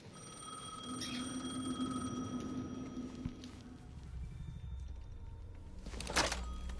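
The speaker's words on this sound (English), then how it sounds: "The phone again." A telephone rings in the video game Alan Wake 2, with faint, distant rings repeating over a low, steady ambient hum and a slightly louder ring near the end.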